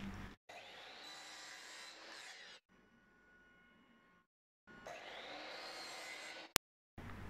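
Hand saw cutting a piece of wooden molding, rasping strokes in two sustained bursts with a quieter stretch between, close but fairly soft, ending with a sharp click.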